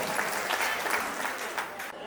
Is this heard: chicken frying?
no